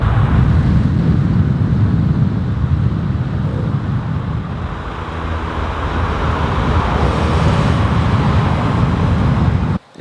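A BMW Z3M Roadster cruises along the road with a steady engine drone, heavy wind rush and road noise filling the cabin at a constant, loud level.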